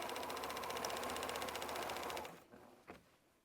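A sewing machine stitches through quilt-as-you-go strip quilt layers in a fast, even mechanical chatter, close and steady, then stops abruptly, leaving a quiet clunk or two.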